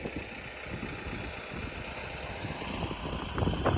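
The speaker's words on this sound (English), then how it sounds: "It's just a 25 horsepower tractor" A small 25 horsepower tractor engine idles steadily up close, a continuous low mechanical rumble with a slight rise in rattle near the end.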